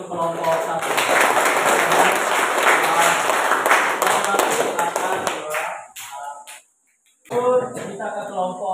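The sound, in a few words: class applause for a group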